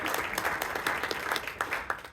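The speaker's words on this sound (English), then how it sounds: "Let's give one more round of applause." A modest round of applause for new employees at a city council meeting, moderately quiet clapping from a small group with distinct individual claps audible.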